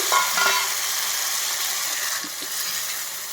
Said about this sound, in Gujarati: અને આવી રીતે આમ તેલમાં સાતરશું ચણા દાળને